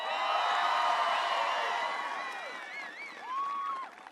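Large crowd cheering and applauding loudly at a political rally in Denver, Colorado, with whoops and high shouts rising over dense clapping that slowly fades across a few seconds.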